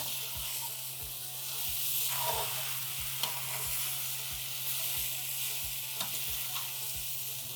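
Cut okra (bhindi) being stirred into a frying masala in a pan, with a steady sizzle and regular scraping strokes about twice a second, close and clear.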